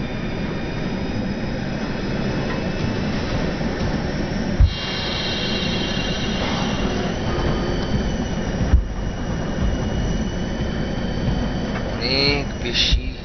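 An aircraft engine roars steadily and loudly as thrust is pushed up, a dense broadband drone with faint tonal whines, a couple of sharp knocks and some muffled voices underneath.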